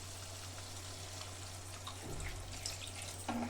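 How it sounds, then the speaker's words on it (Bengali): A small amount of water poured into a pan of pointed gourd and fried spices, a brief splash and hiss in the last second and a half over a steady low hum, with no one speaking. "অল্প করে জল দিব"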